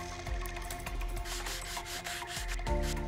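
Repeated rubbing scrape of sandpaper across train rails in a station renovation game, steady back-and-forth strokes close up over a low tonal hum, no voices.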